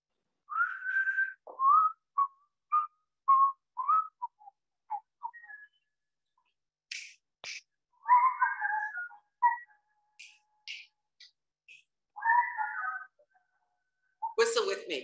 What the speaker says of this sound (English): Whistle with me.